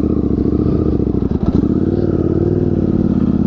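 A KTM 690 Enduro R single-cylinder motorcycle chugs nearby as its front wheel sinks into a deep puddle, the steady engine thrum broken by a brief clattering lurch midway.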